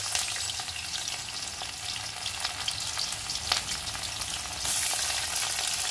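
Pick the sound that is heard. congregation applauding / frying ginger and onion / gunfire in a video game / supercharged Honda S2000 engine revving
frying ginger and onion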